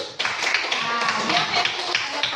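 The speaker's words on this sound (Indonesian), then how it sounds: "Tepuk tangan untuk mereka dulu." Classmates clap for a group that has just presented its discussion results, a brief scattered round of hand claps with voices mixed in.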